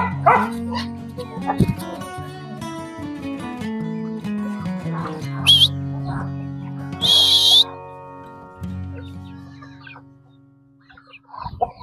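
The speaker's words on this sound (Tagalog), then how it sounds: "Mga aso natin lumalapit." Farm dogs barking near a flock of chickens during morning feeding, several short, close barks mixed with clucking fowl, with a person's voice briefly heard.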